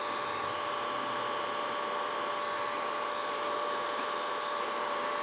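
Heat gun blowing on glue-lined heat shrink tubing over a winch power cable connection, a steady, close whooshing blower hum with a faint whine, unbroken throughout with no voices.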